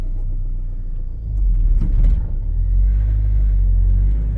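A manual-transmission car's engine rumbles low and close, then revs up toward about 2,500 RPM as the clutch comes up and the car pulls away on a hill.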